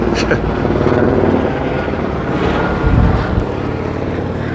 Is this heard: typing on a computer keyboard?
no